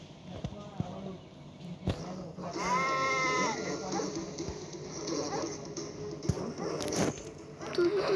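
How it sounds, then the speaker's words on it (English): Sheep bleat in a video game, a wavering cry rising over the game's background noise and a player talking, with a few sharp thuds around it. "I just saw those sheep"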